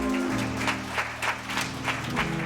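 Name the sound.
audience applause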